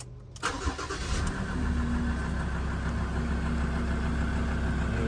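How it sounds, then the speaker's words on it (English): A Ford car's engine cranks and catches after a brief silence, then settles into a steady, loud idle that hums on without any talking. "Let's switch on the vehicle now."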